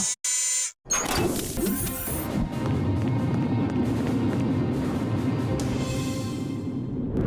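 An alarm rings in a video game, a steady loud buzzing tone that starts after a brief stutter and then holds unbroken for several seconds over a dense electronic hum.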